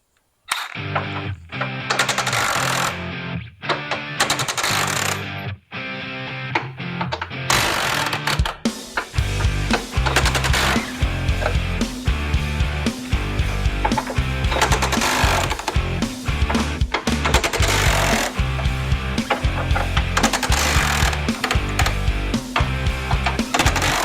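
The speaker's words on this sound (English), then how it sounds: "We'll take an 18mm socket on the impact. We'll just loosen those up just a little bit" An impact wrench with an 18mm socket loosens the bumper bolts on a 2020-2022 Ford Super Duty, giving loud, rapid hammering bursts in repeated runs, the early ones short and choppy, then a longer steady stretch under background music.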